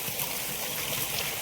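Rainwater flows through street drains in Raipur after a downpour, a steady close rushing and trickling with no pauses.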